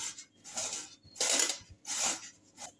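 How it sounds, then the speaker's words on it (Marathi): Boiled potatoes are grated into a metal pot in a few separate rasping strokes with short pauses between them, close and fairly quiet, with no talk. "ज्या भांड्यात आपण मिश्रण कालवणार आहे त्याच भांड्यात मी बटाटा किसून घेते."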